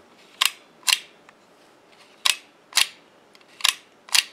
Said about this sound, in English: you can see the shutter opening and closing